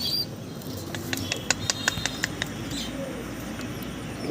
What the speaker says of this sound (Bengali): দুই জোড়া কবুতর গাইবান্ধা চলে যাবে